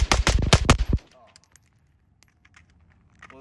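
Six rapid shots from a suppressed Radical Defense MK1 PDW fired on a close-range target about 7 yards away, loud sharp reports packed into roughly one second, then quiet.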